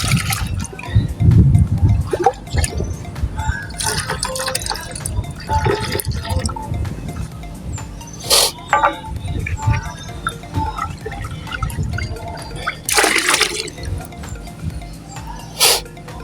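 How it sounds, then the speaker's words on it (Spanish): Water is added to a symbiotic enzymatic bioactivator mixture for biofloc, with sloshing, pouring and splashing sounds loud and close, broken by a few sharp bursts, continuing steadily across the clip. "Vamos a agregarle un poquito aquí de esta misma agua para obviamente aprovechar aquí esto también."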